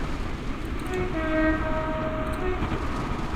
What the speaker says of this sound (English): I tend to just blast the horn a little bit.